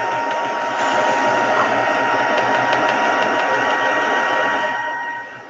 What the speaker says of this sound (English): let's see if I can dry some of this off with the heat gun on a lower temperature